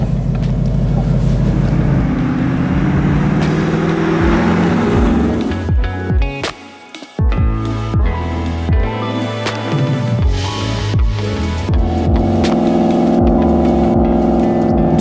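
A supercharged 750-horsepower 2017 Ford Mustang Shelby Supersnake, a 50th-anniversary edition, drives in sport mode. The engine is loud and close and keeps up a steady roar through revs and gear changes, with one brief dip midway.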